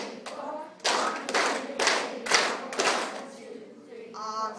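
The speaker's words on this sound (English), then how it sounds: "We do a lot of clapping in band" Band students clap a rhythm together, a run of about seven loud group claps at a steady beat with a voice speaking faintly underneath.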